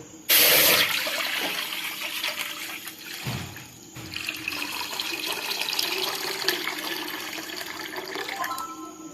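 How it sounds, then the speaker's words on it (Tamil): Two litres of milk poured from one vessel into a pan for payasam, a loud splashing rush at the start settling into a continuous liquid pour with a brief pause midway. "இப்ப வேற ஒரு பாத்திரத்துல எடுத்து வச்ச 2 லிட்டர் பாலை ஊத்திக்கலாம்"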